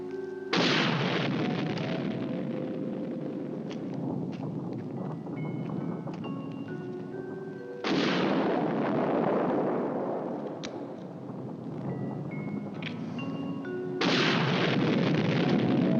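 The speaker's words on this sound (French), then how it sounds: "Les explosions en surface se multiplient." Three heavy, rumbling surface explosions in the science-fiction series Space: 1999, each erupting suddenly and then rolling on for several seconds, loud and close, with faint tonal sounds in the background.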